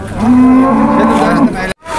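A bull calf moos loudly at the Jalal-Abad livestock market, one long sustained low call that fades, a brief silence, then market noise.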